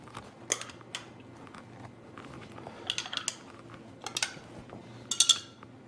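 Small clinks and taps of a utensil stirring cups of water samples for a pH demonstration, light irregular ticks and scrapes close by, a brief glassy ring near the end, in a quiet room.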